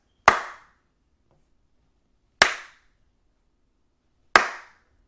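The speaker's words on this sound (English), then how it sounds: "Let's give them their 3 claps" Three sharp, isolated hand claps ring out about two seconds apart, each loud and close with a quick decay into silence between them.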